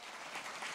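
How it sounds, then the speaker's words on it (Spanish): A brief burst of congregational applause during a church ministry retreat service, a dense wash of clapping heard for under a second at low level. "Dale un aplauso al Rey si puede hacerlo."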